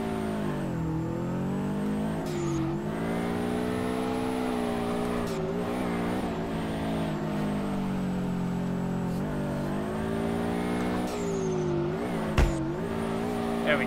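Subaru BRZ drifting in the game DRIFT21: a loud, sustained engine drone with harmonics rising and falling through revs and shifts, plus a tire squeal near the end.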